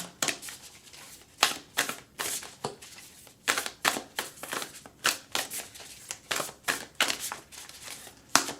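Animal spirit oracle cards are shuffled by hand in a quiet room, a rapid series of crisp riffling snaps and slides repeating in an uneven rhythm, close and alone.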